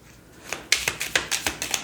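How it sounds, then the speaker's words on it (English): Crisp papery flicks of tarot cards being shuffled, a quick run of about eight snaps close by, with no talking. "One moment as I shuffle."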